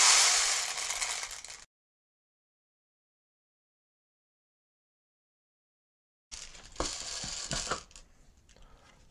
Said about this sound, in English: then we're just gonna pump it